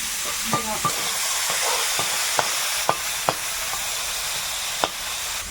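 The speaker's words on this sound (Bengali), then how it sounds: "এইবারে মাছগুলো দিয়ে দেবো ভাজা হতে থাকুক" Freshly caught snakehead and climbing perch (koi) fish frying in hot oil near the Sundarbans, with a steady loud sizzle broken by a handful of sharp pops and clicks.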